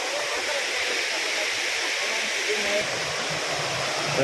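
Loud, steady roar of water falling at a small waterfall, a dense continuous rush that fills the whole clip without pause.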